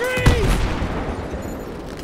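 Gunfire in a Battlefield 3 firefight: a loud burst of shots near the start, then a sustained rumble of distant fire and battle noise across the remaining moments.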